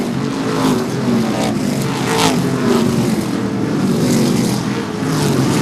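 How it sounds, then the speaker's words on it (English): Modified race cars run nose to tail at Seekonk Speedway, a loud, continuous roar of several engines with pitch swelling and fading as the cars pass close by. "A lot of nose to tail racing going on."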